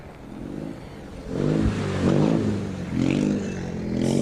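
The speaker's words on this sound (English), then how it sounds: "we've got the Zero car coming to the stop line of the first" A rally zero car rolling up to the stop line at the start of a Rally Liepāja 2021 stage, its engine rumbling and revving in uneven surges, fairly close and growing louder.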